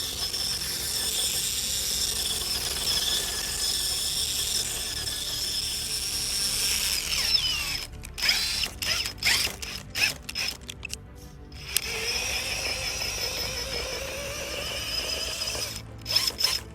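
An RC crawler truck's drivetrain runs at full throttle, a loud steady electric whine that breaks into choppy, stuttering bursts midway before resuming a continuous drone, with no talking.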